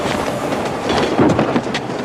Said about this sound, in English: Bird, there's a train coming!